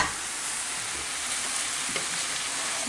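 Pinto beans stirred in a frying pan, giving a steady close sizzle and frying hiss with light scraping of the spoon throughout, no voices.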